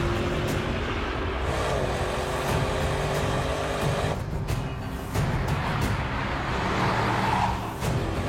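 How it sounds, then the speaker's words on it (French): An Audi RSQ8 or Porsche Cayenne Coupe pushed hard through bends on a circuit, engine roaring continuously and loudly from onboard, with tyres squealing at points and a brief dip in the drone midway. "on entend les pneus couiner"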